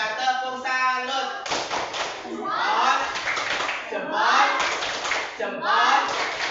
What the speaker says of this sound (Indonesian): tepuk salutnya untuk Una. Tepuk salut.